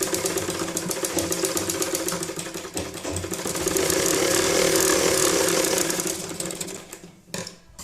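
Sewing machine running steadily while stitching a rabbit-ear hat, a dense continuous motor whir with rapid needle clatter that swells slightly in the middle before slowing and stopping near the end; no talking.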